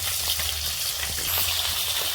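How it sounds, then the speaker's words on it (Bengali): Puti fish sizzle steadily in hot oil in a wok, a dense continuous crackle held close and fairly loud throughout, with no voices. "মাছটা এবার কড়াতে ভালো করে সাজিয়ে নিয়ে ভাজা করছি।"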